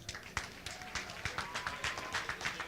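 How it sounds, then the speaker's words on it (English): Sparse audience clapping at a Golden Gloves boxing fight night in Monroeville, individual claps fairly distinct and irregular rather than a dense roar, moderately faint. "let's give Tom a big round of applause"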